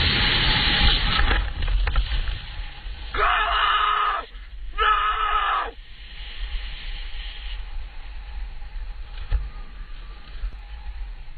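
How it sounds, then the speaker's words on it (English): A person screams in terror during a failed parachute jump, two long loud shrieks with a rushing, wind-like roar around them and before them. "That scream."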